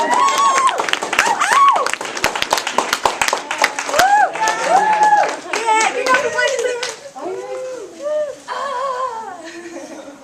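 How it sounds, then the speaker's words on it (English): An audience at a high school graduation speech claps in a dense, scattered burst that thins out after about four seconds, mixed with whoops, cheers and chatter from the crowd that carry on to the end. "Clap, please"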